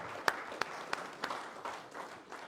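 A few sharp, separate claps ring out inside a church during a Sunday sermon, then thin into soft, scattered clapping that fades quietly with no talk over it.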